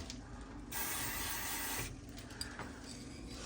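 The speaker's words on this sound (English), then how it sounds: "So you can spray WD-40 a little bit more." WD-40 hisses from an aerosol can onto the hinge of a Viking oven door, two steady bursts of spray with a short pause between them, close and fairly quiet.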